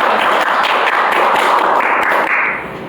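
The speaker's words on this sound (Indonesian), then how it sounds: "Beri tepuk tangan yang meriah untuk teman kita." Loud, dense audience applause at a school student gathering, a continuous close wash of many hands clapping that fades slightly at the end.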